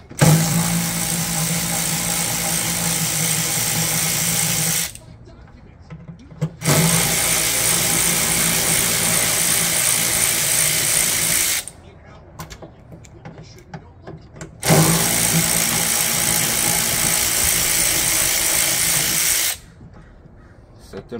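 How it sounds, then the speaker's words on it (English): An AC Delco power ratchet spins out liftgate latch bolts on a Jeep Grand Cherokee, Durango, Liberty or Nitro: three long loud whirring runs separated by short pauses of clinking and handling noise. "a good AC Delco power ratchet also really does the trick"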